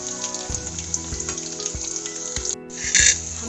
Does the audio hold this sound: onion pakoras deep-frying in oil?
yes